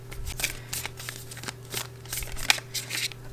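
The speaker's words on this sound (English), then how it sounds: "we're going to shuffle and pick 2 more cards." A deck of tarot cards is shuffled by hand in a series of quick, close, papery riffles and slaps, repeating in an irregular rhythm over a faint steady hum.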